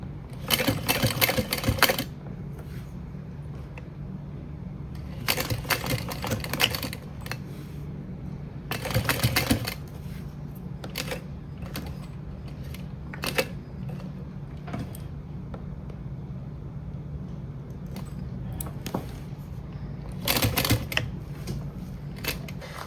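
A sewing machine stitches a seam on a crossbody bag in several loud, close bursts of rapid mechanical chatter, separated by quieter handling pauses.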